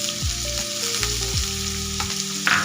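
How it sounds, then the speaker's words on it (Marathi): Chopped onion frying in hot oil in a pan, a steady close sizzle with a few stirring scrapes, and no talking. "हा याच्यामध्ये टाकून कच्चेपणा जाईपर्यंत परतून घ्यायचा आहे."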